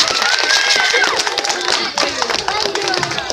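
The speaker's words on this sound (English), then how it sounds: "Round of applause for this little lady here." A crowd claps and cheers for a little girl who has just won a pie walk, with dense, lively applause, excited voices and chatter mixed in at close range.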